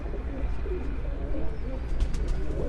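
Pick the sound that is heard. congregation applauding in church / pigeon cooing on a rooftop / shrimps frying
pigeon cooing on a rooftop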